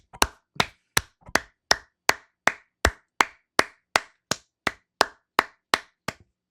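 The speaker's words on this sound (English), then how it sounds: "Clap it up." A streamer claps for a goal with single sharp, close hand claps, about sixteen of them in an even, unhurried rhythm, each crisp and isolated against silence.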